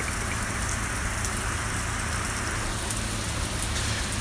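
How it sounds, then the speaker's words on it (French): Heavy rain pouring outside, a dense, steady hiss of drops hitting surfaces, loud and constant throughout with no voices. "Il pleut à boire debout."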